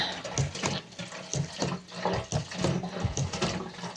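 Kerosene pours into the tank of a Kero World KW-11F heater with a continuous gurgling, splashing flow, close by and fluctuating in loudness, with no talk over it.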